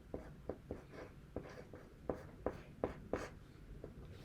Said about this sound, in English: I'm gonna write finally.